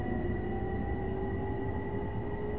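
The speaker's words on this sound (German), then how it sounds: "Ihr hört schon, wie geil sich der Zug anhört, einfach wenn er losfährt." A commuter train on the Harlem Line pulling away in Train Sim World 2, a steady rumbling drone with a low electric whine and faint tonal hum, continuous and fairly loud with no voices.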